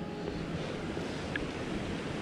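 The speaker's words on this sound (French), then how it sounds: "Là il y a le vent, il fait vraiment froid." Wind blowing outdoors on a cold day at a trout season opening, a steady, faint rushing roar buffeting the microphone with no other sounds standing out.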